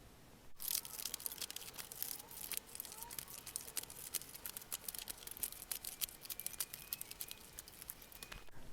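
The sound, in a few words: scallop scissors cutting paper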